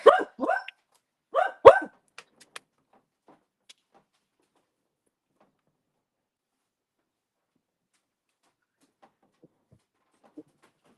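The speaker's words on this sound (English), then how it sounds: "It will muff his barking so that it's not directly in my face." A dog barks four sharp times close by in quick pairs near the start, then quiet follows with only faint scattered noises.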